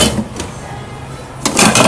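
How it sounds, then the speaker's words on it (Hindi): A dish being taken out, with a short clink of crockery near the start and a louder rattle of dishes and pots toward the end, no talking. "तो डिश निकालते हैं।"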